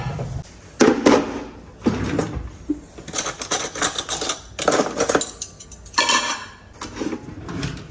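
Plates and dishes clink and clatter in a series of bursts as a home kitchen table is set for a meal.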